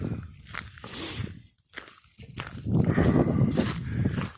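Cows shuffle and low calls sound nearby at night, with hoof-like thuds and rustling, building louder toward the end; a brief quiet gap in the middle.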